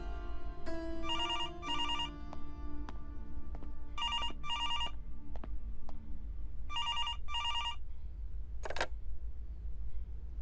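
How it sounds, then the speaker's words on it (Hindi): Telephone ringing indoors in a bright electronic pattern, repeating in bursts of paired rings with gaps between them, loud and close over a low background hum, with no one speaking. "आप फोन अटेंड कर लीजिए।"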